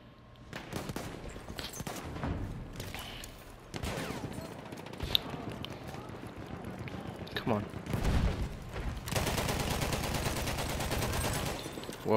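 Dense gunfire from the World War I shooter Battlefield 1, played in the In the Name of the Tsar expansion, with rapid rifle and machine-gun bursts and booming blasts running continuously and loudly throughout, thickening into a heavy barrage near the end.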